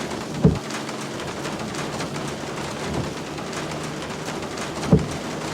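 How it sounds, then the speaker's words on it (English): Steady rain patters on a car roof in a video game, a constant hiss with a few louder drops or thumps scattered through it. "there we go, the rain. And you can hear it on the car."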